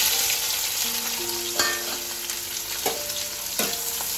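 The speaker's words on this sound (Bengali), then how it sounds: "পেঁয়াজটা দিয়ে আমি মিনিট 2-3 একটু ভালো করে ভেজে নেব।" Onions frying in hot oil for a lote fish jhuro, with a steady, fizzing sizzle and a few sharp clanks and scrapes of a spoon working through the pan.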